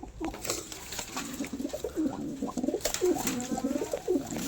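Pigeons, a Madras breed, coo repeatedly in soft, throaty, overlapping calls, close by, with a constant low rustle of background noise.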